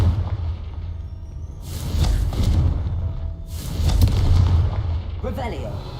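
Booming blasts from the Confringo fire spell in the video game Hogwarts Legacy, two heavy rumbling explosions with low thuds between them, loud and close.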